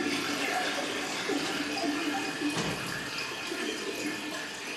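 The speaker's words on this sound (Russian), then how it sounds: "Завораживающий свет, звук льющейся воды." Water pours and splashes continuously in an apartment stage set for a theatre play rehearsal, a steady soft rushing flow with no talk.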